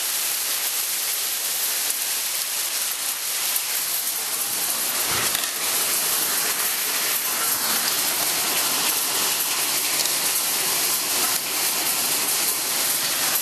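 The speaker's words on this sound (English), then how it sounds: "we are having hail right now." Hail mixed with rain falls steadily in Redondo Beach, a dense, hissing patter of pellets striking surfaces that holds an even roar throughout without pause.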